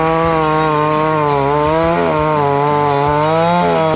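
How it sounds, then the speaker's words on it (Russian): A gasoline chainsaw runs loud and close without pause, its engine pitch dipping and rising as the blade bites into a hard, icy block. "При помощи бензопилы мы сделали снег"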